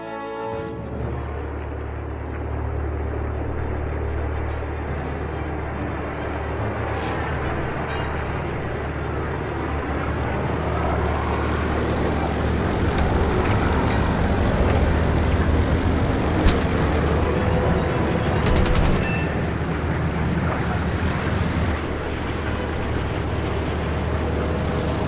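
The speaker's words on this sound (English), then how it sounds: "3 Wake Island airplanes were launched when the radar picked up approaching enemy planes" WWII fighter planes taking off from Wake Island in the video game Birds of Steel: a steady, loud droning engine roar that swells slightly and holds for the whole stretch, with no talk over it.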